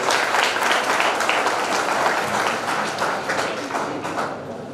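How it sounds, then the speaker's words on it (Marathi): Audience at a one-day national seminar on entrepreneurship at a college applauds loudly and steadily, a dense wash of many hands clapping close by with no talk, tapering slightly toward the end. "जोरदार टाळ्या वाजवून इथं महाविद्यालयाचा आभार आपण व्यक्त केले आहे"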